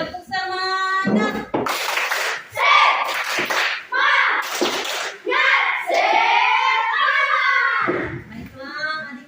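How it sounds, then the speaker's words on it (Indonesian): Indonesian schoolchildren perform a tepuk semangat spirit clap, sharp bursts of group clapping mixed with loud chanted voices in a rhythmic call pattern, close and lively. "Tepuk semangat."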